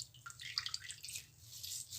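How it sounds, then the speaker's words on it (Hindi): Water trickles and drips softly as a hand squeezes soaked bread in a kitchen for homemade chicken nuggets, a faint, close, irregular patter with no talk. "पानी को अच्छे से निचोड़ लेंगे इसका"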